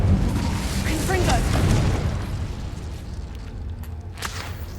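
A Confringo blasting spell explodes in Hogwarts Legacy, a loud boom with a burst of crackling debris that fades into a rumbling tail, with a faint voice mixed in.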